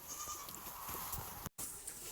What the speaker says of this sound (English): this is a Katahdin hair sheep ram